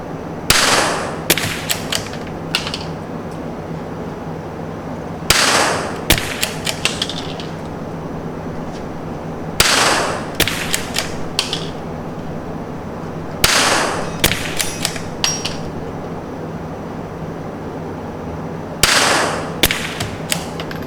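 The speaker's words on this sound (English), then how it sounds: "He's gonna do some sighter shots, shoot a group, and I'm gonna do some sighter shots with it and shoot a group." Sighter shots and groups fired from .22 LR rifles, a Tikka and a CZ, at an outdoor range: sharp reports arrive in quick clusters of several shots, separated by pauses of a few seconds, loud over a steady background hum.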